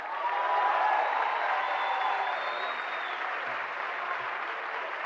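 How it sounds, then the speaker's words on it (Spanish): Steady audience applause from a concert hall crowd, a dense even patter of many hands clapping at moderate distance, swelling slightly early on and then holding without voices. "no tienen que aplaudir"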